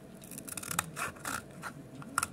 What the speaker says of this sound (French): on va venir couper la partie là